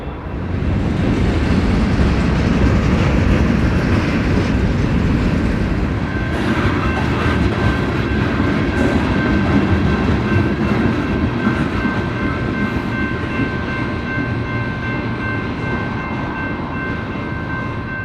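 A Union Pacific manifest freight train rolls past at close range, a loud continuous rumble of wagons with steady clatter and squeal running throughout, no voices.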